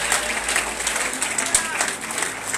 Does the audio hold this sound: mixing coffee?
no